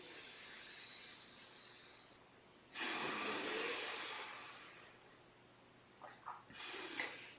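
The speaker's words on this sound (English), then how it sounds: "Continue alternate nostril breathing." Alternate nostril breathing during a yoga session: a long soft airy inhale, then a louder rushing breath through the nose, followed by a few short sniffing breaths, close and without speech.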